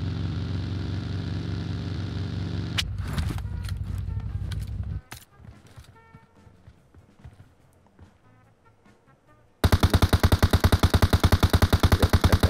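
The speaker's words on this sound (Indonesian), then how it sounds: "ditembakin sama dia" Gunfire in the mobile battle game PUBG Mobile: a droning engine gives way to a cluster of sharp shots, a quieter stretch of scattered clatter, then a loud, rapid automatic burst of evenly spaced shots.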